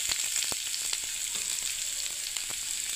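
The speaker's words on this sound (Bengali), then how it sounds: "এবারে পেঁয়াজটাকে আমি একটু ভেজে নিচ্ছি লাল করে।" Onion frying in a pan for a semolina and bean upma breakfast, a steady close sizzle with scattered crackles and pops and the odd stir throughout, with no talking.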